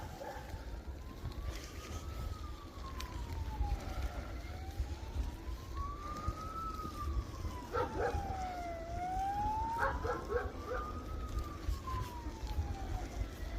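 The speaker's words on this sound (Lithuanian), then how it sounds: "Nesupratau, kodėl policija čia dabar taip skamba." A police car siren wails in slow rising and falling sweeps, steady and clearly audible over constant outdoor rumble and wind, with a few brief sharper tones overlapping midway.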